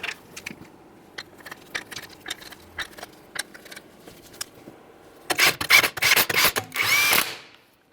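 An impact tool spins 19mm lug nuts onto a 2013-2020 Ford Fusion wheel, starting with light ticking taps, then loud rapid bursts of whirring and rattling near the end.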